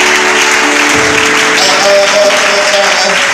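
A church congregation acclaims during a loud worship service. Applause and cheering rise under sustained tonal sound that may be music or voices, all heavily saturated and dense throughout.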